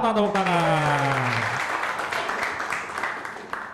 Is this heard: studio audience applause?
yes